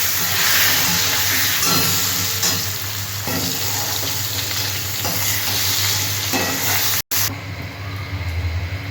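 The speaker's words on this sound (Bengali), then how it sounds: "ওই তেলেতে আমি আলুগুলো ভেজে নিচ্ছি।" Potatoes frying in oil in a covered pan, cooked for a fish curry with potatoes and pointed gourd, making a loud, continuous close sizzle with stirring scrapes. The sizzle cuts out briefly near the end, then resumes.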